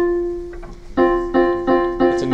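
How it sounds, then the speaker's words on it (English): A musical interval with a 4/3 ratio, a perfect fourth: a single held tone first, then a second pitch joining it in a few repeated, evenly spaced attacks, close and clean with no talk. "So 4/3 is a nice note."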